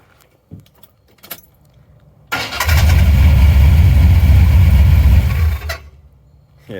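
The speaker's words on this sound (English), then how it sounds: "you can hear that little fan making noise" A small fan running on a car whirs loudly and steadily for about three seconds, then cuts off, leaving near-silence with a few light clicks before and after.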